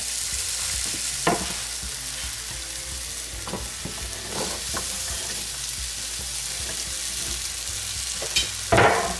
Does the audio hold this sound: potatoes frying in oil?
yes